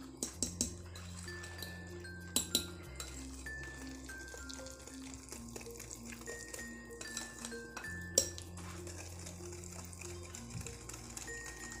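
A utensil clinks and scrapes against a bowl while sugar is mixed into rum cake batter, giving quiet, irregular taps and knocks heard close up beneath soft background music.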